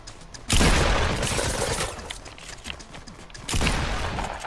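Gunfire in the Fortnite video game, version 6.21: two loud bursts of shots, the first near the start and the second toward the end, with mechanical game noise in between.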